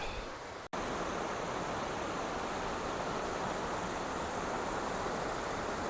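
Waterfall on the Piney River Trail in Rhea County, Tennessee, a constant loud rushing roar of falling water close by, with a brief cut near the start.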